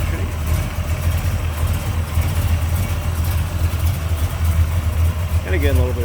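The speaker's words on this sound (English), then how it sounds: "a little bit of cam to it, but nice smooth running engine." A 1968 Chevrolet Impala engine with a slight cam idles with a low, steady, slightly lopey rumble, close by, while a person talks briefly near the end.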